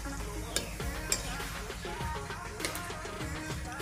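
Panch phoron spices sizzling and crackling in hot oil at the start of cooking Assamese dal, a steady close fry with small sharp pops and occasional stirring clicks.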